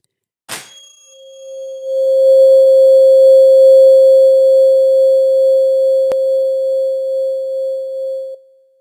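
A steady 528 Hz sine tone doubled, sounding alone and loud: after a brief click it swells in and holds a pure, unbroken pitch for several seconds before cutting off, with no voices.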